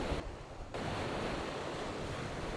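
Strong wind blowing outdoors in a dense Hong Kong city setting, a loud continuous rushing roar buffeting the microphone throughout, with a brief slight dip early on.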